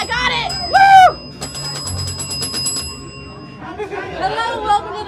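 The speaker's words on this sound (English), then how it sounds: "Ring that bell right there." At a haunted hotel attraction, a bell rings in a rapid, evenly spaced series of bright strikes for about a second and a half, with people talking and exclaiming before and after.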